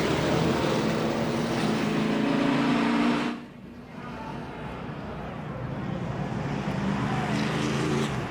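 NASCAR Sprint Cup cars pull off pit road at Watkins Glen during the Cheez-It 355, a loud sustained engine roar that drops abruptly partway through, then builds again, under commentary.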